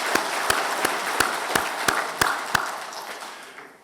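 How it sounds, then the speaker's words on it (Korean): A church congregation applauds the Hosanna choir during a Sunday Christmas service, with steady, evenly spaced claps standing out over a wash of clapping that thins and fades near the end. "다시 한번 격려의 박수를 크게 쳐주시기 바랍니다"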